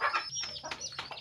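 A hen among a flock of chickens and ducks on a farm clucks several times in quick, close bursts, busy and agitated, with no talk over it.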